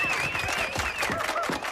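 Audience applause for a band at an open-stage show, a steady broadband patter of clapping with a sustained tonal line and other sounds mixed in.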